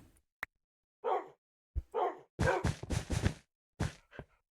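A dog in the Minecraft video game barks several times in short, separate bursts, fairly loud and clean, with a brief click before the first bark and a quick double bark near the end.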